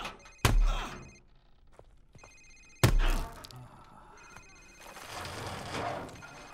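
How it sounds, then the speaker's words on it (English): A cell phone rings in a tense interrogation scene from Call of Duty 4: Modern Warfare Remastered, a faint repeating tone between two heavy thuds, with room noise swelling afterward. "Sir, it's his cell phone."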